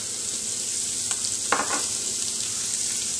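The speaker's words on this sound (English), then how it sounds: "we got our bacon getting a bit crispy" Bacon, mushroom stems and diced garlic fry in a pan as a tapas filling, giving a steady, close, broadband sizzle with a few scraping stirs in the middle and no talking.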